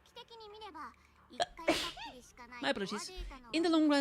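A single sharp sneeze bursts out in the middle of a stretch of close, clear talk, standing out as a brief loud noise between spoken phrases.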